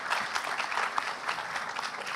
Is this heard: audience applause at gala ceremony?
yes